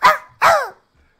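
A person imitates a dog, giving two loud, close, gruff barks in quick succession, the second one slightly longer, followed by silence.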